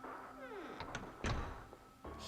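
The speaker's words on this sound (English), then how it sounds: "he heard the door slam shut behind him." A door slams shut in a tense escape-game scene: one heavy, close thud lands mid-clip among a few lighter clicks and knocks, with no voices.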